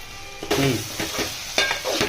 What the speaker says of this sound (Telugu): ఇగో 4 టమాటీలు కూడా వేద్దామండి